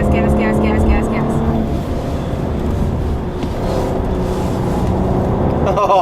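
A 2014 Cadillac CTS twin turbo accelerates hard on a racetrack, its engine droning loud and steady close by while a voice talks over it.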